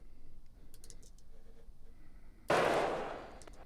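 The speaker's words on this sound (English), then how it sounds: "That one's just a standard impact noise." A single standard impact sound effect lands as a sudden, loud broadband hit after a quiet stretch, then decays over about a second.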